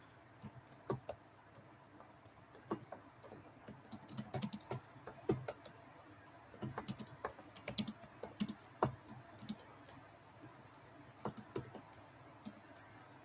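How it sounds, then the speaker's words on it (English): Quick bursts of typing on a computer keyboard, fast light clicking keystrokes in several clusters separated by short pauses, close and fairly quiet, with no talking. "I will type it in the chat just so you can check it out"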